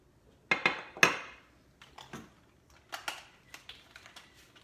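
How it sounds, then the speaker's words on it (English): Utensil knocking and scraping in a bowl as flour is worked into batter for cranberry blood orange bars, a series of sharp close clicks and taps in an irregular rhythm, strongest early and then lighter. "Now, we're going to mix this up."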